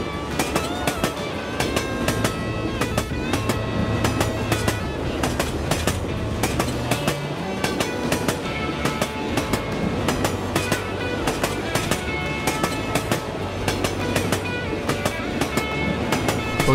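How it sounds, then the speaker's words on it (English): A Southern Railway train crosses points onto a single track, its wheels keeping up a steady, loud clickety-clack rhythm with metallic rattling and a low rumble throughout, close and continuous without talk. "train will switch its track to main lane, and then further it will continue with the single track."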